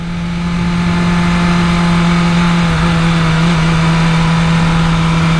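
BMW S1000RR sport bike on Michelin Cup 2 track tires during break-in, its engine held at a loud, steady high drone close by with a strong sustained tone and no talking.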